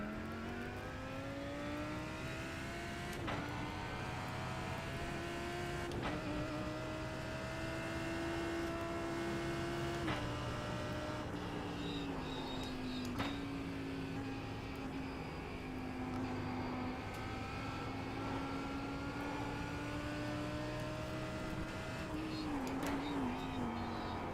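A BMW M4 GT4 race car at Watkins Glen in the iRacing simulator drones steadily, its engine note rising and falling through gear changes and lifts, with sharp shift clicks scattered throughout, fairly quiet overall.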